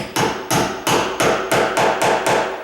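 Steady, evenly spaced hammer taps on a door hinge pin, eight in a row, each a crisp metallic strike with a short ring, close and fairly loud.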